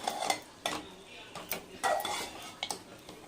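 Spicy mutton masala varuval is stirred and fried in a pan, with a metal spoon scraping and clanking against the pan in irregular, close strokes over a soft sizzle.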